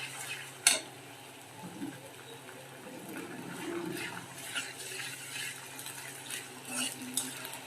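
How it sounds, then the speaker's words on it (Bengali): Onion and spices frying in oil in a pan for a thin rohu fish curry with green tomato and potato give a low, steady sizzle, broken by scattered scrapes and clinks from a stirring spoon. "পেঁয়াজ হালকা ব্রাউন করে আমি চুলার জালটা একটু কমিয়ে অন্য মশলাগুলো দিয়ে দিলাম, যাতে আমার তেল ছিটিয়ে আমার মুখে না লাগে"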